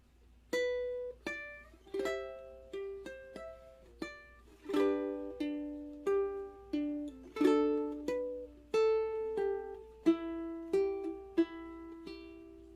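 A ukulele playing a fingerstyle arrangement of "10,000 Reasons (Bless The Lord)", picked slowly and softly, single plucked notes and paired strings ringing one after another in an unhurried rhythm.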